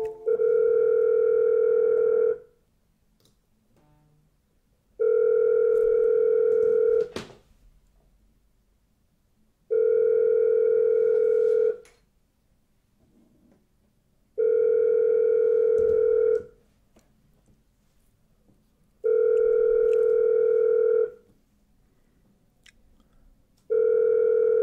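Telephone dial tone during an outbound cold call, sounding as steady tone bursts of about two seconds each, repeating six times with short silent gaps, loud and clear with no talking.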